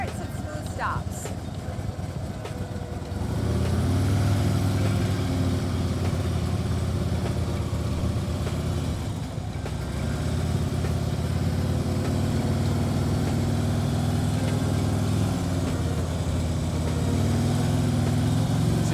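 Motorcycle engine idling and lightly revving through smooth starts and stops during slow-speed rider training, a steady low rumble that stays fairly constant and rises slightly, with talk heard over it.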